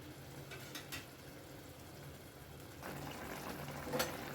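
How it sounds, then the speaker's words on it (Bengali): Chicken Jahangiri simmers covered in a pot, giving a faint, steady low bubbling with a few soft brief bursts, no voices. "এবারে এটা মিনিট পাঁচেকের জন্য ঢাকা দিয়ে সেদ্ধ হতে দেব"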